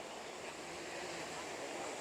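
Water rushes over rocks in a small waterfall-like flow at Kaeng Pla Kaeo, Ban Bung Khiao, a constant even roar close by.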